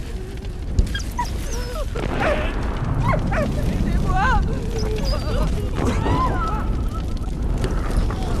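A dog barks a few times in the World War I video game Valiant Hearts: The Great War, its yips scattered over a busy, steady bed of game music and effects.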